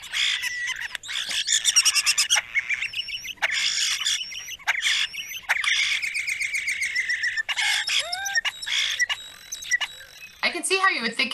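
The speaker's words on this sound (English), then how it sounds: "This is European starling." Several European starlings chatter at close range in a busy, overlapping jumble of clicks, whistles, rising and falling squeals and rattling notes.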